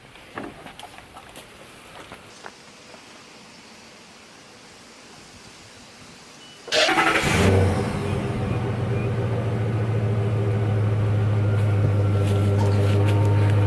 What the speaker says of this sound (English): I'm going to run up to the truck right now and turn it on